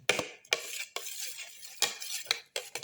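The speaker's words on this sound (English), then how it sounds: "Thoroughly mix and crush all the ingredients together" Ginger, garlic and tomato are mixed and crushed in a pan for a black pepper mint omelette, a run of sharp spoon scrapes and knocks repeating at an uneven rhythm, close by.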